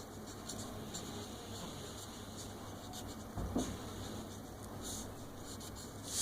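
Faint writing on a board during a maths lesson, soft scattered strokes barely rising above a constant hiss of room noise, with one slightly louder knock partway through.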